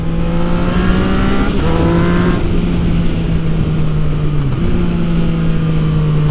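A Yamaha MT-09 motorcycle fitted with a LeoVince full exhaust system revs loudly and close up, its engine note climbing and dipping through throttle blips in a sustained, throaty roar.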